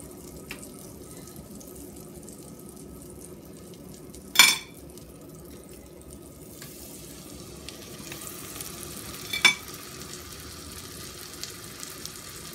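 Yellow bananas frying in butter in a kawali with brown sugar and rum, a soft continuous sizzle close by, broken by two louder scraping clatters of the pan or utensil.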